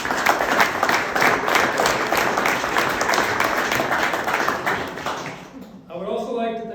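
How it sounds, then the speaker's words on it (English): Audience applause at a graduation ceremony for new technicians, a dense continuous clapping crowd that fills most of the stretch, then cuts off and gives way to a voice at the end. "So give them another round of applause."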